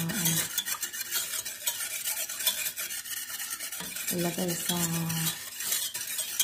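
Sugar being stirred in a pot to dissolve it, with steady scraping and clinking of a utensil against the metal, a continuous close scratchy texture and a few brief tonal squeaks.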